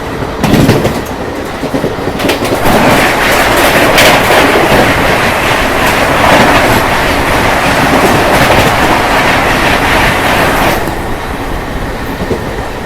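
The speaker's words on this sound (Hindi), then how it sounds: "और दूसरी तरफ से आ रही है अगस्त क्रांति तेजस राजधानी" An Indian Railways Rajdhani express, the August Kranti Tejas Rajdhani, thunders past on the rails nearby, a loud continuous roar of wheels with rapid clickety-clack from the passing coaches that fades slightly near the end.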